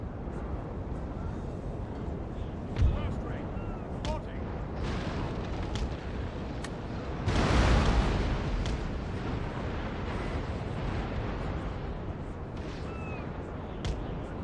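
Ship cannons firing during a naval battle in Napoleon: Total War, heard as scattered booms over a steady rumbling battle bed, with a heavier burst of fire near the middle.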